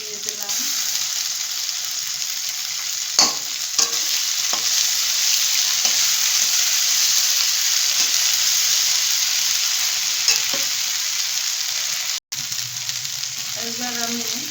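Ginger sizzles in hot oil in a pan for a home-style vegetarian dish of taro and paneer, a steady loud frying hiss with occasional stirring clicks and a brief break near the end.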